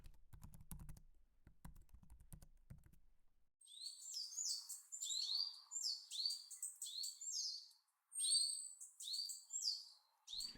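Recorded birdsong played back in a browser sketch, bright repeated chirping phrases that start after a burst of computer keyboard typing and a short pause, clear and fairly loud.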